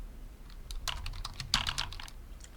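Someone types on a computer keyboard at a steady pace, a close run of quick clicks and taps over a low background hum, with no talking.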